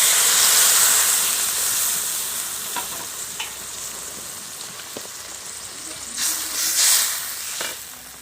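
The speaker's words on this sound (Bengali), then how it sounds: "এবার আমি পরিমাণ মতন জল দিয়ে দিচ্ছি।" Water poured into a pan of frying okra and prawn curry sets off a loud, steady sizzling hiss up close that slowly eases, with a few clinks and a brief surge of steam toward the end.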